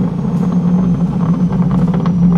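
A C8 Corvette with a burble tune, recorded from inside the cabin as it decelerates from around 3,200 RPM, gives off a loud, steady exhaust rumble with scattered crackling pops on top.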